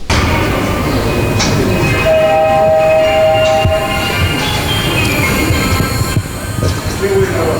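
A long-distance passenger train leaves Uzhhorod station, with loud rolling wheels and clattering cars, a sustained horn tone and a brief later squeal, and people faintly audible in the background.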